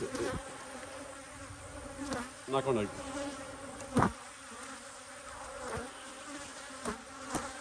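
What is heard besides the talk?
bees buzzing at an apiary hive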